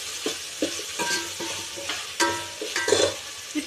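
Ginger paste being stirred into a frying mixture for pabbiyam, with repeated scraping strokes of a spoon against the pan over a low, steady sizzle; nobody speaks.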